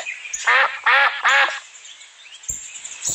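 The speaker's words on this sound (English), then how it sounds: "Duck." A duck quacks three times in a quick, even rhythm, close and loud, followed by a quieter stretch with faint background rustling.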